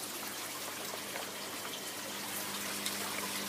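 Water trickling and splashing steadily in a backyard aquaponics system with an air venturi feed, a continuous close bubbling flow with no voices.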